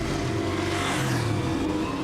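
A motorbike rumbles close by with a steady engine drone that rises slightly in pitch, heard on its own.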